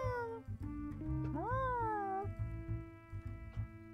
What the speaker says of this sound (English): You guys can also hear the sounds of like there's probably a cat somewhere in here.